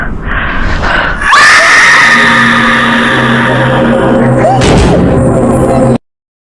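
Piercing, sustained scream from a scary ghost video filmed in Indonesia, loud and harsh, running over a roaring, engine-like din with a rising whine before everything cuts off abruptly.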